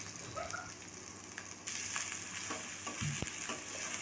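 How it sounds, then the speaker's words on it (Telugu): Onions frying in hot oil in a kadai make a steady crackling sizzle with occasional stirring scrapes, getting louder partway through. "ఆయిల్ హీట్ అయిన తర్వాత ఆనియన్స్ వేసుకోవాలి. ఆనియన్స్ 2-3 నిమిషాలు ఫ్రై చేసుకోవాలి."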